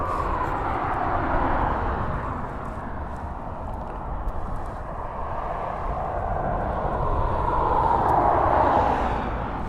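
Aircraft on approach to East Midlands Airport, a broad, steady jet roar heard at a distance that swells and fades slightly over several seconds with no talk.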